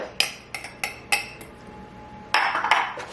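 A spoon clinks against a bowl as flax egg is stirred into vegan banana bread batter, giving a handful of sharp, close taps in an uneven rhythm, then a brief scraping scrape.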